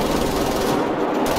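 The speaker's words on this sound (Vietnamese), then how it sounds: "Ngoài này đang bắn nhau khá là dữ dội đấy" Dense, continuous gunfire in a firefight from the World War II shooter game Wolfenstein: The New Order, a loud, harsh, rapid automatic clatter with no voices over it.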